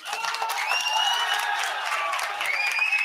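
A crowd at a Vanniyar Sangam meeting breaks into sustained applause, dense clapping running the whole stretch with some cheering voices mixed in.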